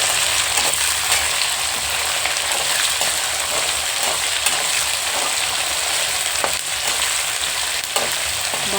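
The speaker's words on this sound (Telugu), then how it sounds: "ఉల్లిపాయలు ఒక 3 ఉల్లిపాయలండి, చిన్నవి సన్నగా కోసి పెట్టుకున్నాను. దోరగా వేయించాలి." Three small, thinly sliced onions fry in a pan while ivy gourd and fresh coconut are being prepared, producing a loud, continuous sizzle with occasional stirring scrapes throughout.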